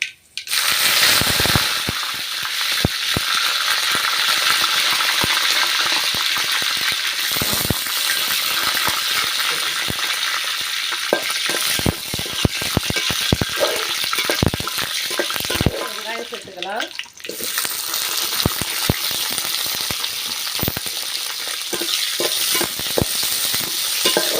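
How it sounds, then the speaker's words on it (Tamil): Curry leaves and dried red chillies frying in oil with popped mustard seeds, a loud continuous sizzle broken by frequent sharp crackles and spatters, with scraping stirs partway through. "கடுகு பொறிஞ்சிட்டு இப்போ வந்து கருவேப்பிலை வரமிளகா ரெண்டையும் சேர்த்துக்கிறேன்"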